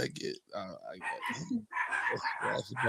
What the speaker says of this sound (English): Y'all got my dogs going crazy.